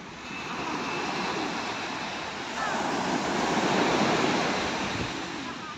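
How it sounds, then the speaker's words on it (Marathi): Sea waves roll in at Girgaon Chowpatty beach in Mumbai, a steady, broad rushing roar of surf that swells slightly toward the middle and continues without a break. "लाटांचा आवाज येत असेल तुम्हाला"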